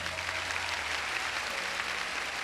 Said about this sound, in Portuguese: Aplaudiu, foi?